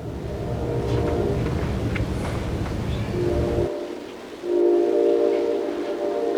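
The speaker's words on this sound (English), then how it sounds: "I hear that train a-coming." A train rumbles past with a sustained horn blast, a dense, loud low roar that cuts off abruptly and then returns as the horn sounds again near the end.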